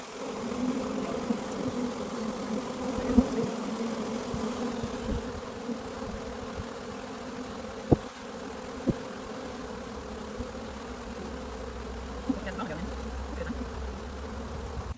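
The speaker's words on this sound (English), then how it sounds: "I decided while we wait for that swarm to kind of settle down" Honeybee swarm buzzing steadily in the open air, a dense, moderately faint drone with a few sharp knocks over it.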